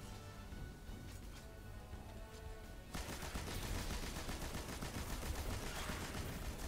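Automatic machine gun fire in Destiny 2: Lightfall's Downfall mission, cutting down beefy gladiator enemies. A quieter stretch of game ambience gives way after about three seconds to dense, continuous rapid fire that stays loud to the end.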